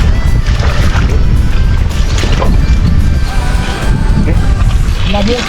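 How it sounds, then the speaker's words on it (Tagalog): A loud, continuous boat engine drones close by with splashing water and rough knocks, muffled voices mixed into the noise. "Kanya yung makina."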